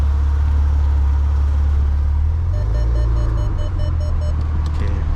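A 2015 Maserati Ghibli S V6 in Sport Mode rumbles loudly and deeply at idle inside the cabin, with a short run of electronic beeps sounding over it midway.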